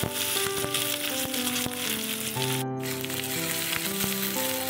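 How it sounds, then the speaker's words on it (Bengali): Onions frying in a pan at the start of a papaya manchurian, a steady close sizzle with scattered stirring scrapes, backed by sustained musical tones and no voices. "পেঁয়াজটা একটু নেড়ে চেড়ে নেব প্রথমে।"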